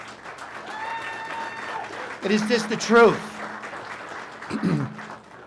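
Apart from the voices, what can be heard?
audience applauding the town board at a meeting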